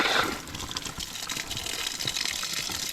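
Water runs steadily from a garden water line fed by a pump, a continuous rushing gush with no voices.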